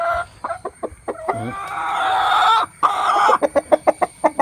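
Chickens cluck in a coop in a series of loud, close, sharp calls, with one longer drawn-out squawk in the middle.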